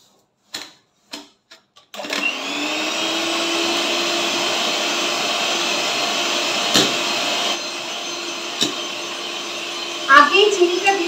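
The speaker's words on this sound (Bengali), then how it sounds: "এবার আবার আমি এটা বিট করব" An electric beater whipping eggs and sugar for a chocolate sponge cake, a few clicks and knocks first, then a loud, steady motor whine with a shift in pitch partway through and a brief voice near the end.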